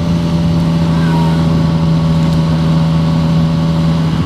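A Honda Grom motorcycle rides along a lake road, its engine holding a steady, loud droning hum mixed with rushing wind noise, unbroken from start to end.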